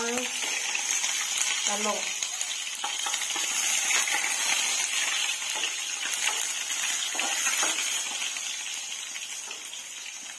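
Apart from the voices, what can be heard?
food frying in a pan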